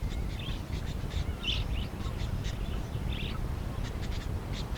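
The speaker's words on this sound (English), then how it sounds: "The budgerigars know the rain will produce a flush of food, and they gather in trees lining the flooded rivers" Budgerigars chirp and twitter in a flock in trees lining flooded rivers, with short bright calls repeating against a steady wash of background noise.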